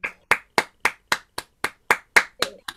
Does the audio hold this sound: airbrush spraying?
no